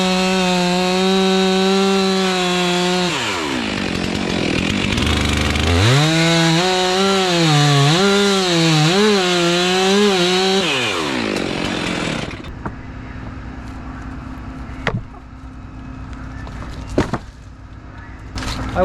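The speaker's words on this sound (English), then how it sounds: "Start up the chainsaw." A loud chainsaw revs and whines close by, its pitch rising and dipping as it step-cuts into wood during arborist training, then cuts off, leaving a few sharp knocks.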